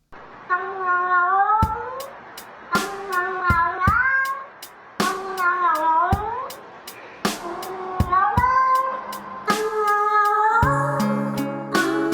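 Domestic cat meowing repeatedly, a series of clear, close, loud meows in rhythmic bursts with short pauses, each rising and falling in pitch, with sharp percussive clicks between them and no talking.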